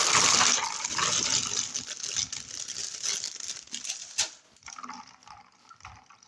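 Crinkling and splashing of water poured over bagels to soak them, a loud gushing start that settles into softer sloshing and rustling.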